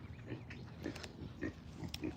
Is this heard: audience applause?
no